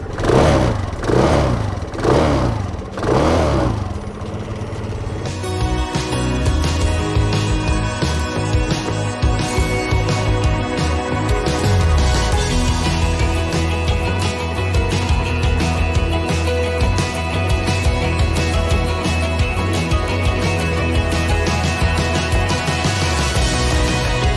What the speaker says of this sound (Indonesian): Nih, kita akan nyalain langsung nih. Nah, ini walaupun pakai dynamo starter, tapi suara mesinnya ini terdengar cukup halus.